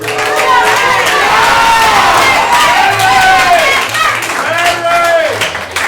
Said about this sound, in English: Give it up for Michelle and Larry.